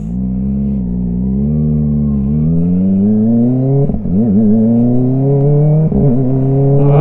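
A 250cc motorbike fitted with an aftermarket muffler accelerates while being ridden, its loud, close engine note rising steadily through the gears with brief dips at shifts and no talk.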